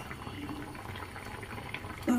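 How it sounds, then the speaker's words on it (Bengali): Bottle gourd kofta curry bubbles softly in a pot, a low, steady simmer heard close and quiet, with a brief louder knock at the very end. "একটু ফুটে গেলেই নামিয়ে দেব।"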